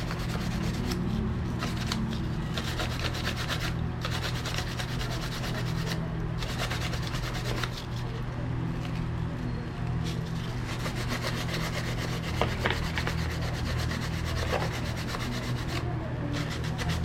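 Steady rubbing scrape of fine 1000-grit sandpaper worked back and forth over a Yamaha Mio Sporty scooter engine cover, continuous and close with a constant low hum beneath and no talking.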